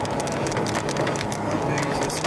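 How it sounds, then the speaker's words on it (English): Hail pelting down during a tornado storm chase, a dense, steady clatter of icy stones striking surfaces close by, loud and continuous with no voices. "How big is this hail?"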